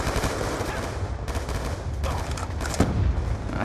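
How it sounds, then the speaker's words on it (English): Call of Duty Black Ops 2 gunfire rattles in loud, rapid bursts with sharp cracks close by, continuing through the whole moment. "someone's shooting me from there"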